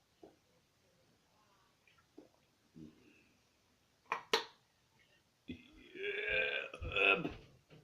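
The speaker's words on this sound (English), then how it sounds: "I still have some burp stuff in there." A person burps loudly and close, one long croaky belch after a sharp burst, with small mouth and swallowing noises before it.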